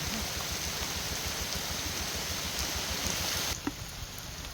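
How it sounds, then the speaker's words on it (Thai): Steady rain hissing down, broad and continuous, with no voices, briefly shifting in tone near the end. "โอ้ยฝนตกฝนตกฝนตก"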